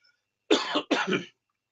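Two quick, dry coughs close to the mic from a person with a mild cold and sinus congestion, each a short burst, alone in a quiet room.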